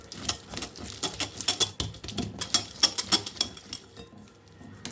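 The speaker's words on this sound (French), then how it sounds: "on va l'ajouter à notre beurre et mélanger" Melted chocolate is stirred into butter in a bowl, producing quick irregular clinks and scrapes of a utensil against the dish, close up and fairly soft.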